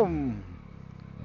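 A Yamaha Tracer 9 GT 2023 motorcycle rolls into a garage, a low engine thrum with rhythmic pulsing after a brief louder opening, close by and without talk.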